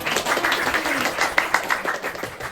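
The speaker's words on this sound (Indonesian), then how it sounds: "Ya, tepuk tangan lah" Classroom applause, a burst of clapping from many students that stays steady for a couple of seconds with scattered sharper claps, close and fairly loud.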